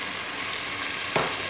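Chicken with powdered curry spices sizzles in a pan with a steady, soft frying hiss, and a brief stirring scrape near the end. No one talks.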